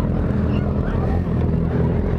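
A Honda CBR 1000 Repsol motorcycle with a 4-inch exhaust roars loudly and steadily at a children's day gathering, a dense, continuous close-up engine drone with no pauses.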